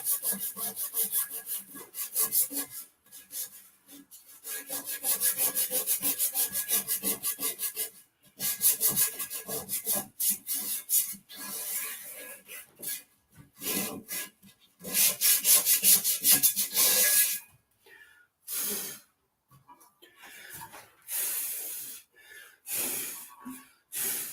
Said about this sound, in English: I got 80 grit sandpaper here. It's fighting me.